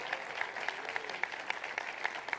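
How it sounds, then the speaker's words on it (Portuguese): A church congregation claps along in a steady, rhythmic beat, with evenly spaced sharp claps roughly every quarter second over a softer background wash, fairly quiet and without talk. "Se você acredita, pode aplaudir a Ele"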